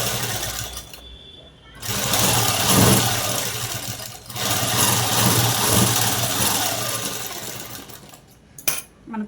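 Sewing machine stitching a cross strip on a net cloth blouse, running in steady mechanical bursts with brief pauses between passes, close and fairly loud.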